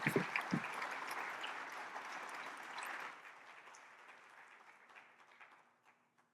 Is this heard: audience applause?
yes